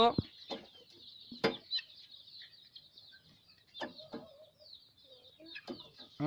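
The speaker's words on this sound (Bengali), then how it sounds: "আমি মুরগির বাচ্চাটাকে এখানে রাখবো।" A young native chick clucks and peeps in short, scattered bursts while it sits on a kitchen scale, with faint clicks in between, close and fairly soft.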